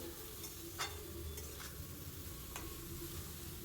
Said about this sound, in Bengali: দিয়ে দিচ্ছি পরিমাণ মতো নুন এবারে খুব ভালো করে নাড়াচাড়া করে নেবো